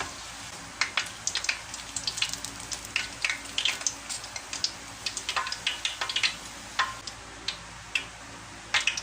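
Glutinous rice dough snacks fry in hot oil with steady, close crackling and a stream of sharp ticking pops at a moderate level, with no voices.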